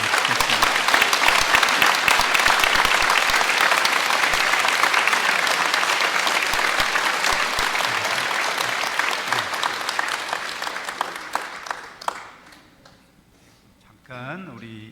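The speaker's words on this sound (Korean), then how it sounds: "잠깐 일어나셔서 박수 부탁드립니다." A church congregation at a priest's first Mass stands and applauds, a dense sustained clapping that fills the space for about twelve seconds, then fades into a quiet hall before a voice briefly speaks near the end.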